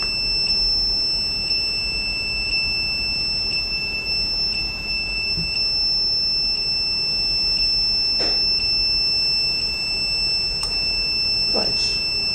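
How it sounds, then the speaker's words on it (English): A PIC microcontroller home automation system sounds a steady, piercing electronic buzzer tone that holds continuously as an alert, with a few faint clicks underneath and no talk. "we will get the audible alerts from this buzzer as alert to the user"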